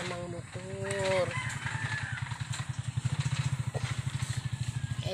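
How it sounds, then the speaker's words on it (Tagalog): A motorcycle passes close by, its engine puttering in a steady rapid beat that grows louder, with a rooster crowing and a voice early on. "may dumaan na namang motor."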